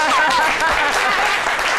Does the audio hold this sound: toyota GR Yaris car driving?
no